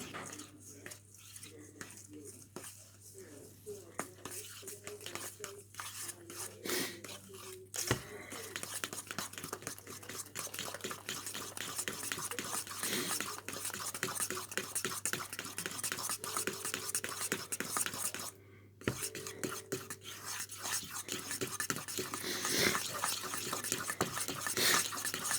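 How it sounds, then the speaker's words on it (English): A tropical breakfast bar mixture with chunks of banana is stirred in a bowl, giving repeated scraping and clinking strokes at close range. Quiet speech runs on and off underneath. "Give that a good stir."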